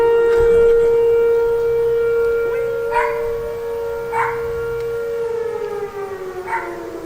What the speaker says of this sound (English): I test the tornado sirens every Wednesday at noon.